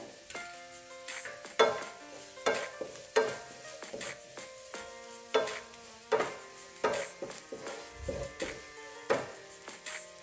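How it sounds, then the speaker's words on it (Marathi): Asafoetida and coriander-cumin powder sizzle in hot oil while a spoon stirs them, with steady frying hiss punctuated by repeated clanking scrapes against the pan, close and fairly quiet, no talking. "हिंग टाकते, त्यानंतर याच्यामध्ये 1 चमचाभर धना जिरा पावडर"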